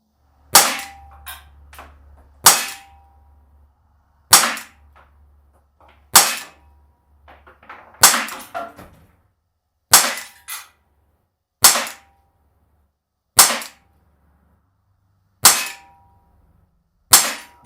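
A compact PPS M2 CO2 blowback BB pistol fires ten sharp, snapping shots at a steady pace about every one to two seconds, each crack close and distinct with faint mechanical clatter between shots.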